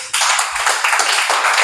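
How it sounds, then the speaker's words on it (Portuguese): A church congregation bursting into loud, close applause, dense rapid clapping sustained evenly from start to finish with no talking. "salva de palmas, bem forte para mim"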